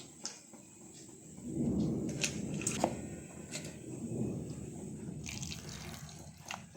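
Water is poured into soaked urad dal in a mixer jar, a soft splashing trickle building and fading, with a few light clinks of the jar.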